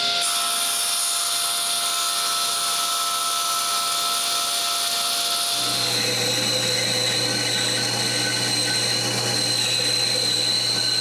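A power tool cutting a piece of glued-up wood, running as a loud steady whine that changes pitch partway through as the blade engages, continuous with no talk.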